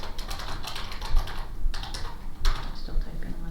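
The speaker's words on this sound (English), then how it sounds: "Still typing" Rapid keystrokes on a computer keyboard clatter in dense bursts with brief pauses, close and fairly loud, during an online parent advocacy group meeting.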